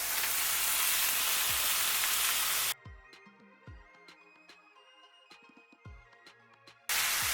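Ground beef fries with onion in a skillet. A loud, dense sizzle cuts off into a quieter spell of scraping and clinks, then the loud sizzle comes back.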